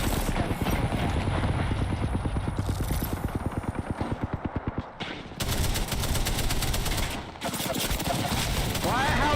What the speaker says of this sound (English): How is there 3 people shooting me all of a sudden?